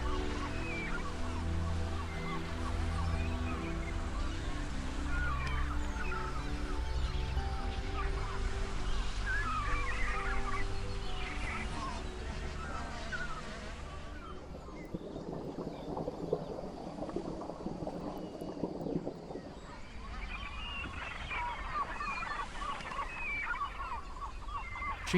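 Bar-headed geese and gulls nesting in a colony on a Qinghai Lake island call continuously, a dense chorus of honks and cries that thins midway into fainter, scattered calls.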